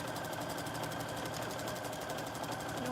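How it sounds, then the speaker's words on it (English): Home sewing machine stitches straight along a marked line on scrappy quilt fabric, a fast, even mechanical whir with rapid rhythmic ticking that runs steadily and close throughout. "So I'm just sewing directly on the line here."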